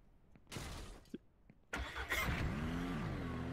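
A car in the Ranch Simulator video game starts up and revs, its engine rising from a short burst into a sustained mid-pitched drone with shifting tone, moderately loud and without talk.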